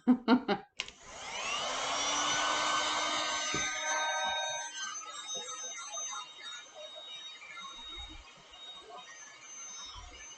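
Heating tool running on high heat while warming a vinyl record before cutting, a steady blowing whir with a tonal whine that rises after a few sharp clicks, then fades and turns uneven.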